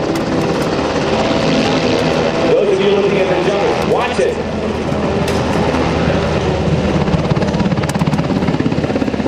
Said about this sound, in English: you will see the weight of the helicopter being supported, and that rotor will literally begin to cone upward